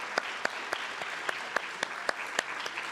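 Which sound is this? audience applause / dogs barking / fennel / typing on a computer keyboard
audience applause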